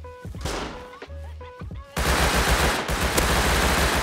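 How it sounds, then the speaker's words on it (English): Rapid automatic gunfire from an outpost in a video game, with bursts of shots that swell into a dense, continuous barrage of crackling fire, fairly close and loud. "Outpost is shooting in the back."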